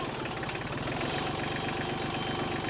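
A tractor engine idles steadily close by, with a rough, even chugging pulse and a faint knocking throb that holds at the same level throughout, with no talk over it.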